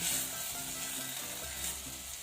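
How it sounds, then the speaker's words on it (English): Creamy satay sauce with coconut cream bubbling and sizzling in a pan as it is stirred, a steady close frying hiss with soft scraping, no talking. "Stir them up."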